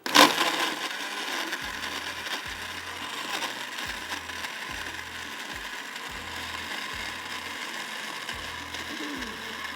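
A kitchen blender grinding saffron milk whirs steadily after a sharp start, with a rhythmic low chugging pulse repeating underneath the continuous motor noise.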